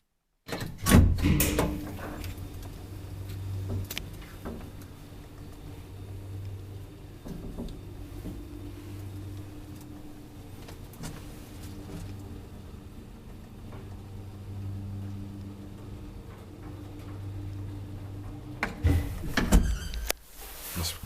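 Second ride in an old 1963 Kone traction lift serving 5 floors in Maunula, Helsinki: door and relay clunks at the start, a steady low humming rumble while travelling, then another burst of door and mechanism clatter as it stops.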